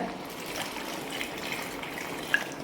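Water pours steadily into cooking rice with a soft splashing rush, close by and fairly quiet, with no speech.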